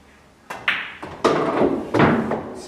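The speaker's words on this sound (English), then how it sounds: "So now I'll hit a stop shot, and now it's going to go 90 degrees" Pool balls on a table during a stop shot: sharp clicks and knocks as the cue strikes the cue ball and it hits the object ball, followed by thuds of a ball rolling into the pocket, close and distinct.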